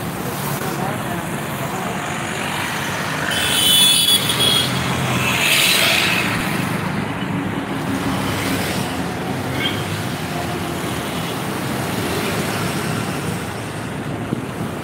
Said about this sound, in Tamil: இப்போ தான் வண்டி ஓரளவுக்கு கூட்டம் வருது.